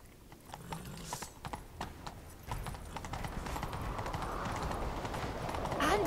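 Horse hooves clip-clop at a steady trot in The Witcher 3 video game, clear and fairly close, with a brief whinny among the rhythmic hoofbeats and a faint game ambience building underneath.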